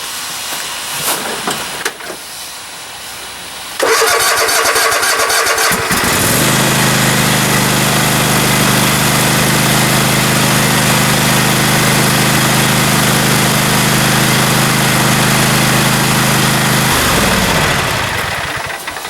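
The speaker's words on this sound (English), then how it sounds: "if everything's good, it should crank right up" A Gravely zero-turn lawn mower, just fitted with a lithium battery, cranks briefly then fires up into a loud steady roaring idle that holds before winding down near the end.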